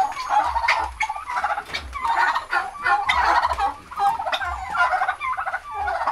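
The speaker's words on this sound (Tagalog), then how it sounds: "Oh, mga pabo. Ayan, dami." Turkeys at a small poultry farm gobble loudly and repeatedly, with overlapping calls in quick bursts throughout and no talking.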